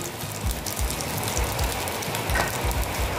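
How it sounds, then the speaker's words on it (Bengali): Heavy rain falling, a dense continuous hiss with steady low pattering throughout, loud and close. "আমাদের এখানে খুব বৃষ্টি পড়ছে"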